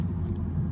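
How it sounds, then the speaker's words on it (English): A stock six-cylinder exhaust on a 2016 BMW M235i coupe rumbles low and steady from inside the car, a deep continuous drone with no talking over it. "it's weird to think that for a stock exhaust for a 6-cylinder car sounds this mean and tamed"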